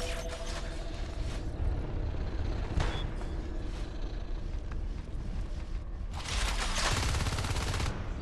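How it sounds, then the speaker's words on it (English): Continuous gunfire from the Natural Selection 2 video game, a dense, steady stream of rapid shots with louder bursts near the start and toward the end, with no talk. "Have no clue what I'm shooting at."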